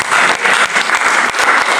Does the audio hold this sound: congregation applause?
yes